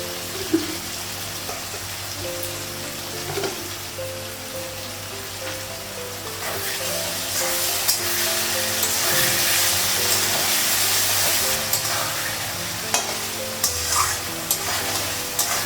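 A spice paste of ginger, garlic, cumin powder, chilli powder, sugar and water being stirred and fried in a pan, with a steady sizzle that swells in the middle and occasional spoon clicks, close up and with no talking.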